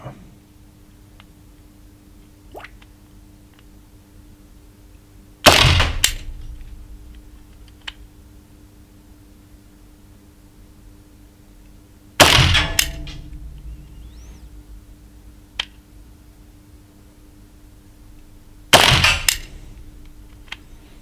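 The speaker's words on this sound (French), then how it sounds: "Je vais tenter un tir sans viseur pour voir." Three sharp air pistol shots, 4.5 mm diabolo pellets fired at a target with no sight, each a crisp pop several seconds apart with a brief metallic ring after, against a quiet background.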